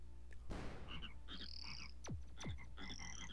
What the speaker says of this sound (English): What's with you and the frogs?